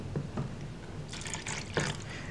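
Water poured into PVA glue for making slime, a couple of soft drips followed by a short splashing trickle into a container, close and fairly quiet with no talking.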